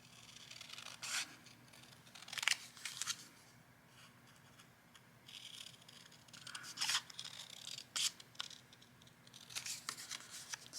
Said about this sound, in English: So I'm just going to trim some of these things down.